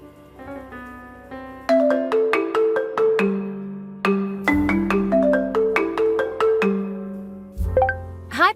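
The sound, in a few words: phone ringing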